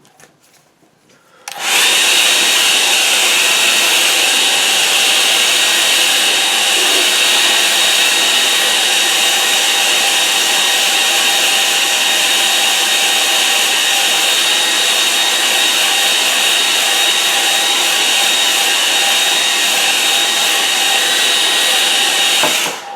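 A hair dryer switches on and runs steadily at full power, drying watercolour paint applied with mop and sable brushes, a loud constant whirring hiss that lasts about twenty seconds.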